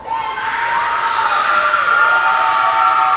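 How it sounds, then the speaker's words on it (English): A high-school student section cheers at a varsity volleyball match between Robbinsville and Asheville, a sustained crowd roar of shouting and whooping voices filling the gym at steady loudness throughout. "we got a nice little cheer off right now between Asheville and the Robbinsville student section"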